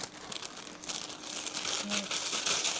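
Disposable plastic gloves crinkle and rustle in a home kitchen while hamburger steak is being prepared. The crackling comes in close, uneven bursts that grow louder toward the end, with a faint background hum.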